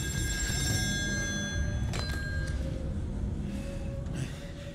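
A telephone rings in the video game Still Wakes the Deep, set on an offshore oil rig, with a steady electronic tone heard over a heavy low industrial rumble and scattered clanks.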